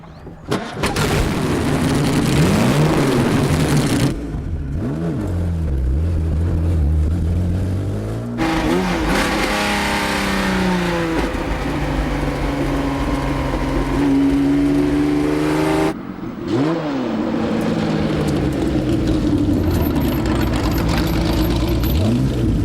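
A short-nose Jaguar D-type racing car on a road test, its engine loud and close, revving hard and rising through repeated gear changes with brief drops between shifts, alone without talking.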